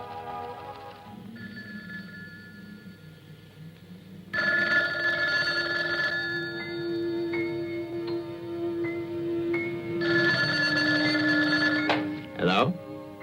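An old landline telephone bell rings out loud and clear in a quiet house at night, in repeated bursts of ringing separated by pauses, ending with the receiver being picked up.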